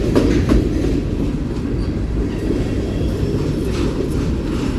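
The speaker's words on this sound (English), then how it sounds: "There goes the end of train number 4 or 5." A Norfolk Southern manifest freight train rolls past close by, a loud continuous rumble of wheels and cars with steady rail clatter.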